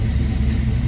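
A restored 1969 Ford Fairlane 500 hardtop with a 408 stroker V8, C4 automatic and Holley Sniper fuel injection idles with a loud, close, steady low rumble.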